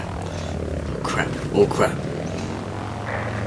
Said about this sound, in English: I got three planes, right, on my tail, and I can't freaking...